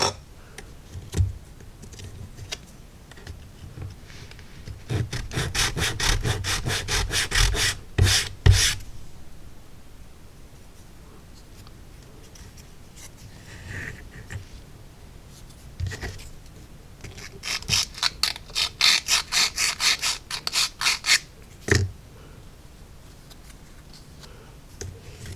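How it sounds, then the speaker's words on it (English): An HO scale railroad kit part's edges sanded on an emery board: bursts of quick rhythmic rasping strokes, close and fairly loud, separated by quieter pauses. "we'll do a couple light swipes over the emery board, and that should clean up the edge"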